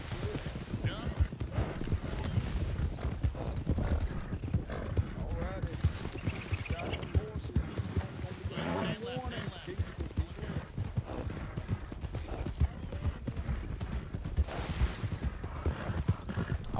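Mustang horses gallop in the Wild RP video game, with a continuous rapid clip-clop of hooves and occasional whinnies heard under ongoing talk.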